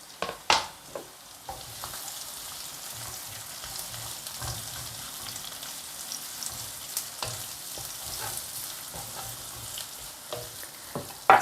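Galangal, ginger and bay leaves stir-fry in a pan for a blood clam dish, giving a steady close sizzle with scattered crackles and a few louder scrapes and clinks of stirring.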